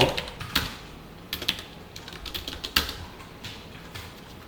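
Someone types code on a computer keyboard, short bursts of clicky keystrokes with pauses between, close and fairly quiet.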